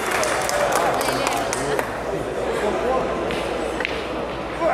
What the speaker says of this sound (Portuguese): Aplausos no salão.